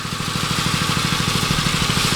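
A small petrol water pump engine idles steadily with a fast, even putter and light mechanical clatter, close by and continuous with no talking.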